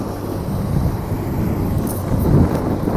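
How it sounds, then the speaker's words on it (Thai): Strong wind buffets the microphone with a steady low roar at a roadwork site where a Komatsu PC200-8 excavator and a Hino Victor Neo truck are working to build a road, swelling slightly toward the end. "ลมแรงแท้"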